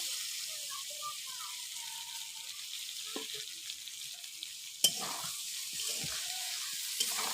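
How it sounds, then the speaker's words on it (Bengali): Soybean chunks frying in a pan for a Bengali soybean and egg curry, a continuous soft sizzle with a few spatula knocks and stirring scrapes, one sharp clack near the middle. "এই দেখুন নেড়ে নেবো ভালো করে কষে নেবো"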